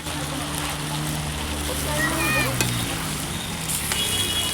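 Meat sizzles and fries steadily in a pan at an outdoor family picnic, a constant close hiss under background voices and occasional clinks.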